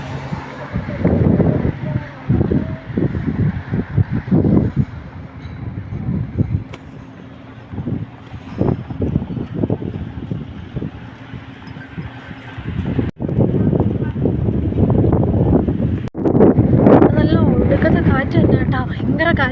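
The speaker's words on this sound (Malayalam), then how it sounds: "കാറ്റ് തന്നെ കേട്ടോ." A strong wind sweeps Kalba beach in Sharjah, buffeting the microphone with loud roaring gusts that rise and fall and swell hardest near the end. Voices are faintly audible beneath the wind.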